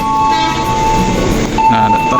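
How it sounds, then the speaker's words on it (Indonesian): Train at a departure platform of an Indonesian railway station, a steady rumble of rolling stock with a sustained horn-like tone that swells near the end, close and loud. "Ini posisi sudah di dalam peron"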